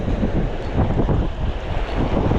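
Strong sea waves and gusting wind buffet the microphone out on open water during a fishing and shellfish-gathering trip, a dense, continuous roar of surf and wind rumble with no voices.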